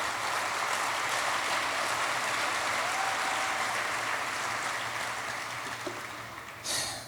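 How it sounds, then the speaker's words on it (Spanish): A church congregation claps in a full, steady wash of applause that slowly thins toward the end, with a brief final burst just before it stops. "Dale un aplauso a Dios por eso"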